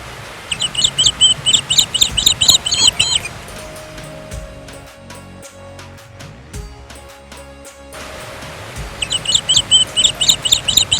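Birds chirp in bright, rapid trills at the start and again at the end, with a quiet, steady outdoor hum in between, among high hills near Yamunotri.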